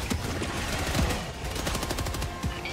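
A deployed turret in Helldivers 2 fires in rapid automatic bursts, a dense continuous rattle of loud gunfire with deep thumping impacts beneath it, heard without voices.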